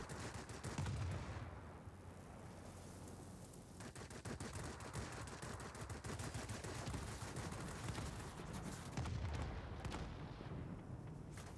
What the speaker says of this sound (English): I can hear a lot of explosions over a short period of time, which means everybody's dying somewhere.